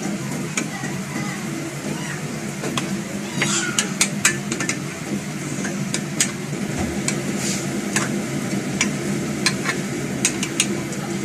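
Raw chicken pieces hitting a hot pan and frying, a steady broadband sizzle with scattered crackles and pops throughout, close and continuous with occasional stirring clatter.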